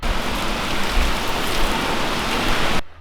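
Heavy rain pours in a boatyard in Luperon, Dominican Republic, during the rainy season: a dense, steady hiss of drops on surfaces that continues without a break and then cuts off abruptly at the end.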